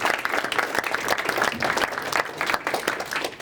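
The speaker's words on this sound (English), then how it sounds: "Can we all give him one more huge round of applause?" Enthusiastic applause from a startup demo day audience for a presenter, close and lively clapping with individual claps standing out in an uneven, bustling rhythm.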